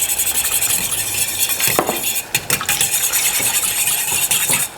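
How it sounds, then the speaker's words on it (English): Rapid scraping whisk strokes as oil is whisked into a dressing for Pan Asian-style asparagus, close and fairly loud, with a few brief clinks against the bowl and no talking. "And then I'm just going to whisk in some oil."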